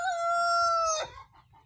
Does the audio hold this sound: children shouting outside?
no